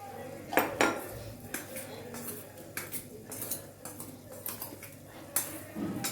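A spoon clinks and scrapes against a metal pan while masala powder and turmeric are stirred together, with repeated sharp taps and knocks over a low kitchen background.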